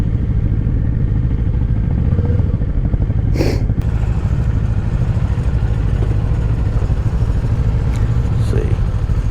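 A Kawasaki Eliminator motorcycle engine drones steadily and loudly while riding, with wind rumble and an occasional clatter.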